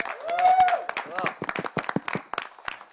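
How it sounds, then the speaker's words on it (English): A short burst of applause at a press conference, scattered claps starting and thinning out while a voice talks over them. "The legend herself, Abda Parveen, and a round of applause."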